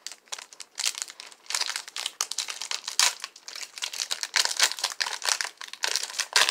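A foil-type wrapper on an Opening Day baseball card pack from a blaster box is crinkled and torn open up close, producing bursts of sharp crackling and ripping that come in uneven waves with brief pauses.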